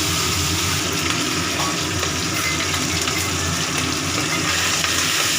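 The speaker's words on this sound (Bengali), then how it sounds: "মাছের মুড়ো তেল দিয়ে ভালো করে ভেজে নিচ্ছি" Fish head frying in hot oil, a steady, dense sizzle with occasional stirring noises, loud and continuous throughout with no talking.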